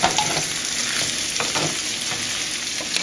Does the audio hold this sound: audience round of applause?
no